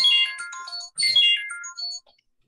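A telephone ringtone plays as a bright, melodic electronic chime in two repeating bursts, loud and close, then cuts off.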